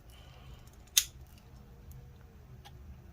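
A single sharp scissor snip cuts through something during disassembly of a CyberPowerPC Model C Series Tracer IV GK5MR0O laptop, one quick crisp cut over a quiet background.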